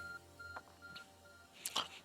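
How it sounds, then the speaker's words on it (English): Faint electronic phone beeps in Pokemon Legends: Arceus, a short repeating tone pattern at low volume followed by a brighter chime near the end. "Your phone is beeping."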